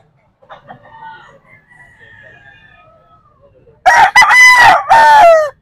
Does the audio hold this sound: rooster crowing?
yes